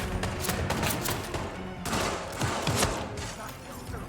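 Rapid gunfire with heavy recoil rattles in the Hitman video game, a dense, loud volley of overlapping shots with no break.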